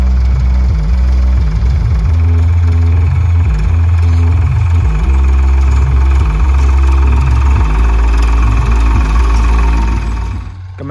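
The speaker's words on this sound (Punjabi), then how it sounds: "ਦੇਖੋ ਬਈ, ਟਰੈਕਟਰ ਕਿਵੇਂ ਲੱਗਦਾ ਗਾ।" A Farmtrac T20 tractor engine runs steadily close by, with a loud, deep throbbing rumble and shifting low tones that hold through the clip before easing off slightly at the end.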